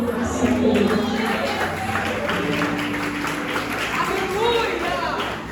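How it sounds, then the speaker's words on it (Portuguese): Congregation in a church applauding, a steady wash of clapping mixed with voices calling out and tonal singing or music underneath, continuous and fairly loud throughout. "se assenta aplaudindo ao Senhor"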